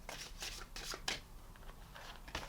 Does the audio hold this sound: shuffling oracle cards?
yes